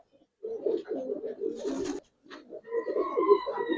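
Giribaz pigeons, including a khaki and beji pair, coo in a loft in close, throaty bursts, breaking for a brief silence midway before resuming, with a faint higher chirp near the end.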